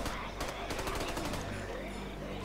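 Rapid automatic gunfire bursts from an online 16-player zombie survival shooter game, a few quick volleys of shots in the first second and a half, then fading into background game noise with a voice talking.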